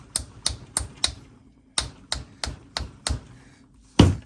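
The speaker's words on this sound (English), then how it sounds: "got to get a hammer." A hammer taps on a Halloween Michael Myers 3D model during assembly, giving about a dozen sharp, close knocks in short uneven bursts with brief pauses between them.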